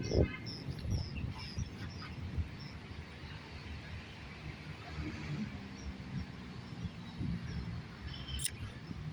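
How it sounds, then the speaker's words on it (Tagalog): Birds call in scattered chirps and quacks over a steady outdoor background along Manila Bay, faint and somewhat distant with no talking. "daming ibon ngayon."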